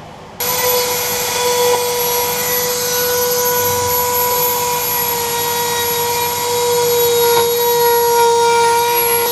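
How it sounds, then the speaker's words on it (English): A Dremel rotary tool runs at a constant high-pitched whine while cutting into an RV floor, starting abruptly and holding loud and steady with a slight rise near the end. "I kind of wanted to give you an overview and a look at how this Dremel works."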